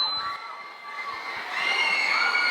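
Crowd of fans at a Hunger Games cast appearance in a Westfield Broward mall, screaming and cheering in a loud, sustained high-pitched wall of voices that swells louder in the second half.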